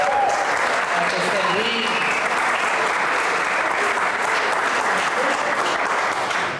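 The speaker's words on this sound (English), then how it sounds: "Let's give Carlos Flores another round of applause" Sustained audience applause fills the room at an event on Chicago's Puerto Rican music, a dense steady clapping that holds loud and even throughout, with a faint voice briefly audible near the start.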